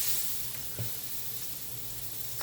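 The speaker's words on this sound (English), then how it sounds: "So we're going to let those sear." Ribeye pork chops searing in a hot pan give a steady, soft frying sizzle with faint crackles, nearby and fairly quiet, with no talking.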